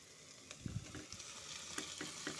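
Onion, garlic and ginger sizzle softly in oil in a pan as pre-fried brinjal is stirred in for a brinjal and prawn curry, giving a steady low hiss punctuated by a few stirring scrapes and taps.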